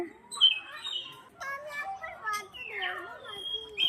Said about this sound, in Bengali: এখানে রয়েছে পাখি, আর পাখিগুলো খুব সুন্দর ডাকছে।